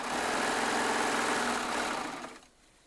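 A Baby Lock Triumph serger runs at full speed with a dense, steady motor whir and rapid needle chatter, then slows and stops near the end, leaving a faint hum.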